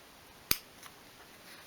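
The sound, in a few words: scissors snipping fabric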